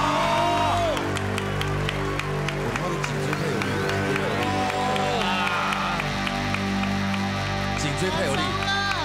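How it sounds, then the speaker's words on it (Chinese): A studio audience on a variety show applauds and cheers a strongman balancing a grown man on his head, with dense, continuous clapping running under excited voices and sustained musical tones. "掌声鼓励哇！"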